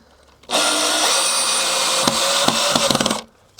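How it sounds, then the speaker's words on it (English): A power drill drives screws into pre-drilled holes in the wooden frame of a vegetable garden extension, a loud, steady whirring burst of about three seconds ending in a few stuttering pulses, alone. "I've just pre-drilled the holes to make it a little bit easier for these screws to"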